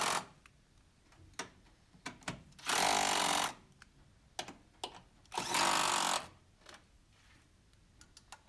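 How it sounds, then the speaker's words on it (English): Ratchet tightening bolts on a Vauxhall Zafira B engine during a cambelt replacement, giving close, sharp clicking in bursts with two longer loud rasping runs of rapid clicks in between. "I will go over these and check them again with the ratchet."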